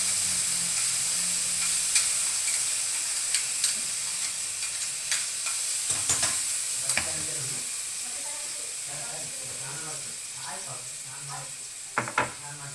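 Vegetable paste sizzling in hot ghee while being stirred, a constant frying hiss broken by scraping clicks of the spoon, with a voice talking over it throughout.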